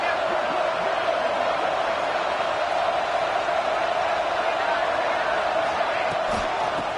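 A football stadium crowd roars steadily during a defensive stand in the red zone, a dense, far-off wash of cheering that never lets up, with faint talk mixed in.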